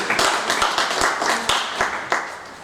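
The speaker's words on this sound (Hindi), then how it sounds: "एक बार जोरदार तालियों से अभिनंदन करती हूँ प्रेम सागर प्रेम" An audience at a Hindi poetry recital (kavi sammelan) in Faridabad claps in a loose, rhythmic pattern of distinct hand claps, fairly close and lively for a couple of seconds.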